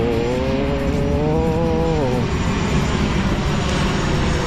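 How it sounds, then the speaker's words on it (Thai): A propeller or jet airplane passes low overhead near Nan airport during a night street food market, a loud steady engine roar with a falling tonal whine that fades into broadband rumble. "เครื่องบินตอนนี้คืออยู่ใกล้กับสนามบินน่านนะ"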